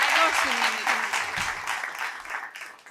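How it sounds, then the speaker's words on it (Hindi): Audience clapping at a Hindi poetry recital (kavi sammelan), a broad wash of applause that gradually fades, with a voice speaking over it. "तालियों की गड़गड़ाहट कम पड़ रही है"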